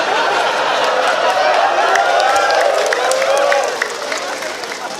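An audience at an Islamic religious talk in South Korea claps and murmurs with laughter, a busy crowd noise with overlapping voices and clapping that eases off in the last second.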